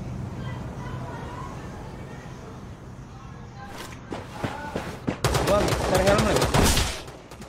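M249 light machine gun firing in the mobile battle-royale game Rules of Survival: after a quiet stretch, scattered shots give way to a dense, loud burst of rapid automatic fire over a few seconds.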